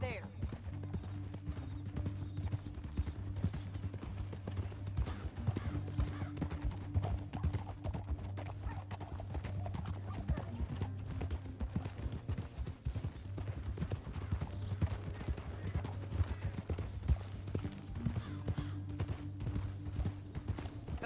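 Horses' hooves clip-clop steadily through a canyon as riders travel, with an occasional whinny, the rhythmic hoofbeats continuing under a low musical drone and some talk.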